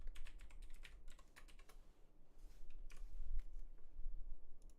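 Rapid bursts of computer keyboard typing very close to a microphone, a busy clatter of keystrokes that pauses briefly and resumes, with a low hum underneath.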